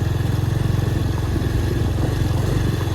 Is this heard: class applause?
no